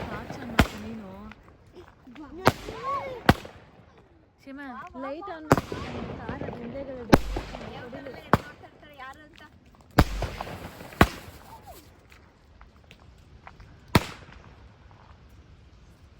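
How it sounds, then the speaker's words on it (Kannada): Sharp firecracker bangs burst outside at irregular intervals, about ten loud cracks spread across the stretch, while people chat and sing birthday wishes indoors. "ಆಚೆ ಬೇರೆ ಪಟಾಕಿ ಹೊಡಿತಾರೆ"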